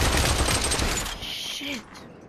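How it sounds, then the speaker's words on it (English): Sustained automatic gunfire in the VR shooter Population One rattles loudly for over a second, then fades into game sounds with a brief electronic sweep at the end. "stop shooting at me"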